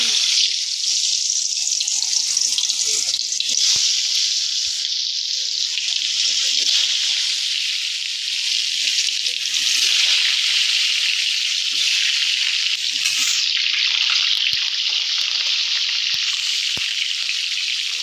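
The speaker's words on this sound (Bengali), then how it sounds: "কড়াইয়ে তেলটা গরম হয়ে গেছে এবার আলুগুলোকে দিয়ে" Potatoes frying in hot mustard oil in a wok give a loud, continuous hiss and crackle that stays steady throughout, with a few faint knocks underneath and no speech.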